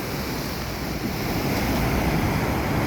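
Strong surf at the Kizhur estuary in Kasaragod during heavy, unrelenting rain, a continuous loud wash of breaking waves and rain noise with wind buffeting, steady and close with no voices.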